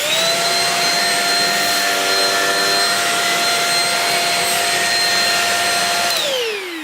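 A Shark Rocket vacuum cleaner runs on carpet at its carpet setting, sucking up flour: a loud, steady, close whine that holds for about six seconds, then powers down with a falling pitch.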